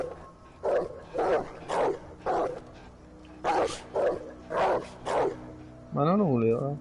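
A wolf in Werewolf: The Apocalypse Earthblood gives a run of short, close barks in two bursts, ending in a wavering whine, with a faint background hum.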